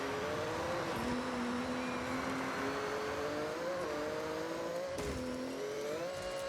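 A car engine in Forza Horizon 6 revs high and shifts gears, its whining pitch climbing, then dropping sharply at a shift before rising again, loud and continuous, with no talk over it.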